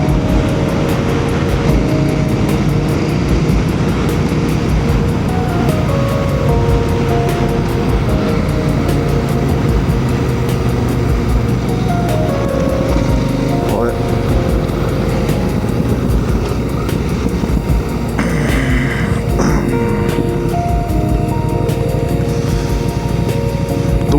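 A motorcycle rides along a forest road, its engine droning steadily and loud throughout, with shifting engine tones and constant wind-like rumble close to the rider.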